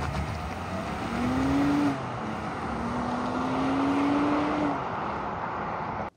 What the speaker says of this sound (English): we're gonna put the car into sport mode, and for whatever reason, we're gonna brake, boost, launch it